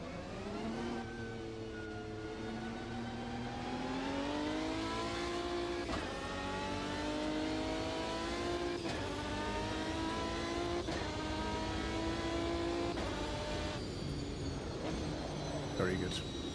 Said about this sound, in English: It's not only about the engine note, it also has this rich sound.